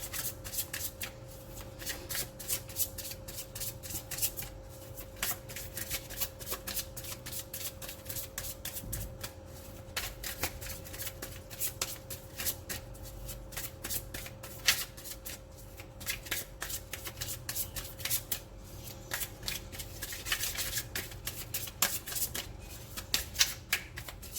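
Tarot cards shuffled by hand during a reading, a long continuous riffle of quick, crisp flicks and slides at close range with no talking.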